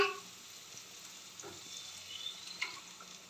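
Beaten egg hits a hot pan of vegetables and fries with a loud, steady sizzle, close up. Faint stirring clicks run over the continuous crackle, and no one speaks.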